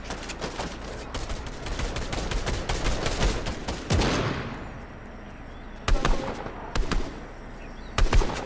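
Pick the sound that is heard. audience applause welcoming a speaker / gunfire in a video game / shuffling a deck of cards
gunfire in a video game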